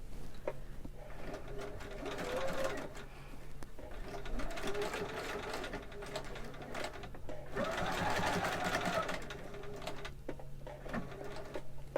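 A sewing machine stitches the hem of a doll skirt in a steady, close, mechanical whir. The stitching runs in two longer bursts with brief slowdowns between them, and there is no talk.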